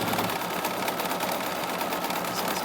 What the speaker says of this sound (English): you're going to tell the machine to stitch the placement line for your fabric